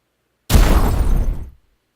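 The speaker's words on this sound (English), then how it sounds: "There's a lot of explosions." A single loud video game explosion bursts in abruptly and roars with broadband rumble for about a second before cutting off, with no talk over it.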